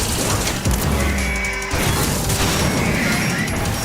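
Dense gunfire and explosive crashes in the video game Metal Gear Solid 2 fill the clip with loud, chaotic bursts and booms, with no break between them.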